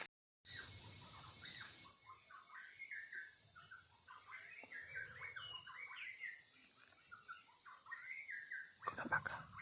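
A white-rumped shama (murai batu) sings outdoors on a hilltop, pouring out a run of varied whistled phrases and chirps at moderate loudness over faint background hum, with no talking.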